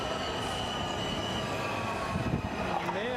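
A commuter train rolls past in the Washington, D.C. area, with a sustained rumble and rail noise and squealing wheels rising near the end. Fairly close and continuous, with no speech.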